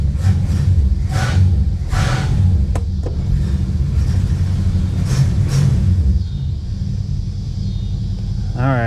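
A 1966 Plymouth Fury II with a 318 V8 runs with a loud, continuous low rumble close by, holding steady with slight throttle swells, while someone briefly speaks over it.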